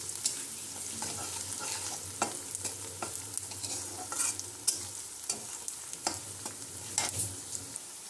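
Half a spoon of ginger-garlic paste fries in a pan with a steady crackling sizzle, broken by repeated scrapes and taps of a spoon stirring it close by.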